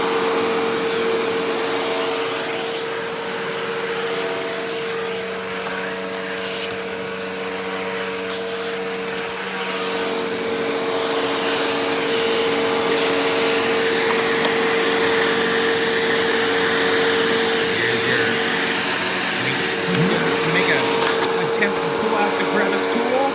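A Hoover Windtunnel Bagless Twin Chamber U5752-900 upright vacuum cleaner running with a steady motor drone and tonal whine, its airflow surging and rustling as it is handled, with occasional talking underneath.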